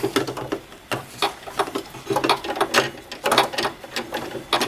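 A sewing machine stitches a patch onto loose jersey fabric in quick, uneven bursts of rapid mechanical clatter, close and fairly loud, with short pauses between runs.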